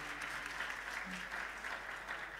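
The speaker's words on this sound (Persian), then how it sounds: "خیلی تشویقش میکنین، خیلی به ما کمک کردن امروز." Concert audience at a Fereydouni music school show at Azadi Tower applauding: continuous, even clapping from many hands, heard quietly and at a distance for the whole stretch.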